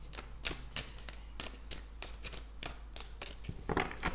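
Tarot cards are shuffled by hand in a series of quick, soft riffling taps and flicks at an uneven rhythm, close and fairly quiet, with no voices.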